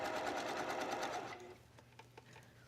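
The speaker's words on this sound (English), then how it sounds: "let me show you what to do at the sewing machine" Sewing machine stitching a dress facing with a quarter-inch seam, running in a fast steady rhythmic whir for over a second, then stopping, leaving a few faint clicks and handling sounds.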